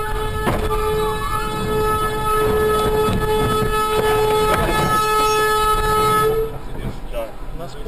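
A loud, sustained train horn sounds at a railway crossing just before a train strikes a car, blaring steadily for about six seconds amid engine rumble and background noise, then cutting off abruptly as the impact noise begins.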